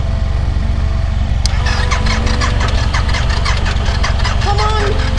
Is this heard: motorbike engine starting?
yes